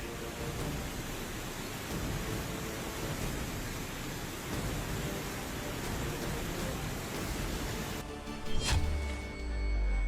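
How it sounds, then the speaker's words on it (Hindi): Heavy rain from Cyclone Ditwah pours down in Sri Lanka, a steady broad hiss of downpour throughout, with a brief louder splash or thud near the end and no voices. "चक्रवाती तूफान दितवाह से यहां इतनी बारिश हो रही है"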